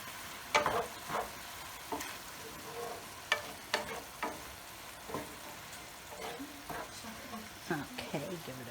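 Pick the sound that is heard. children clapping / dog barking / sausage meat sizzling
sausage meat sizzling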